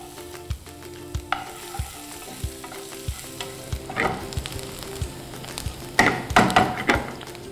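Chopped onion sizzles and fries in a pan with garlic, mustard seeds, asafoetida and green chili for an Indian dal fry, with steady frying hiss, repeated spoon knocks and stirring scrapes, louder bursts near the end.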